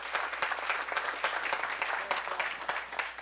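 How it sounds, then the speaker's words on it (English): Panel event audience applauds steadily, a dense even wash of many clapping hands with some crisp nearby claps, sustained for the whole stretch. "let's give them a round of applause"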